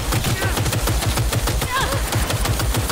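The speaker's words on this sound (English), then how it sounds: "Oh, we got the turret now. No stealth necessary. Yeah, I love this turret stuff." Rapid, loud turret fire rattles continuously in Cyberpunk 2077, dense repeating bursts with whirring and electronic effects over them and a voice talking underneath.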